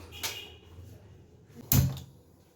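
A pressure cooker lid being opened after cooking matar dal makes a faint scrape, then a sharp metallic clunk, close by and brief, with no talking.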